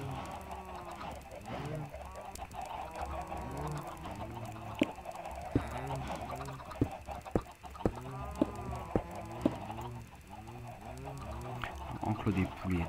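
Minecraft chickens clucking over and over, a dense run of repeated short clucks throughout, with scattered sharp clicks in the middle and a low background hum.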